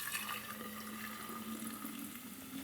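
Soda water runs into a cup from a tap, making a steady faint rushing flow with a slight tonal ring as it fills, with no talking.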